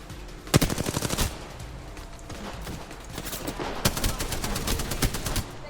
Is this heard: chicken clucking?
no